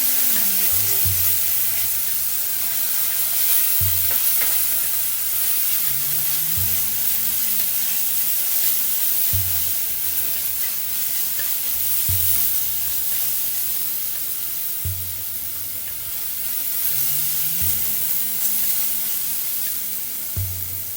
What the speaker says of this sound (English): So the onion, ginger, garlic had been cooking for some time now